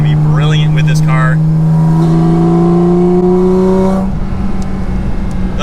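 Porsche 718 Cayman GT4 RS Weissach engine and exhaust rising steadily in pitch under hard acceleration, loud and close, then easing off into a rougher idle-like rumble near the end.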